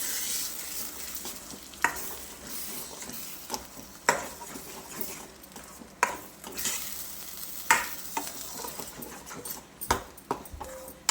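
Vegetables fry and sizzle in a pan for Karnataka-style vegetable sagu, with a steady hiss broken by repeated scraping knocks of a spoon stirring every couple of seconds, close by.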